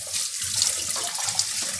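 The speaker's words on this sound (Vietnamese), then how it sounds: "rửa vòi nước, đầu vòi nước, đây quay rửa đây" Cassava roots being washed under a running kitchen tap, a steady close hiss of flowing water with small splashes as the roots are turned, no talking.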